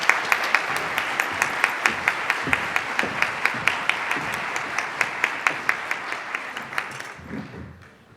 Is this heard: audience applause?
yes